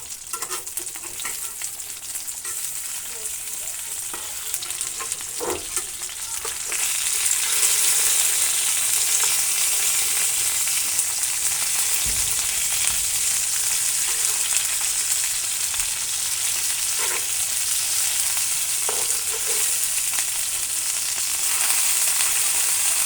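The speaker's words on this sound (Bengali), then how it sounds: "এখন একেবারে লাল টুকটুকে করে ভাই ভেজে নিব মাছগুলোকে" Chandpur hilsa fish pieces fry in a pan with a steady, dense sizzle that grows louder after a few seconds and holds, with occasional soft clinks of a utensil.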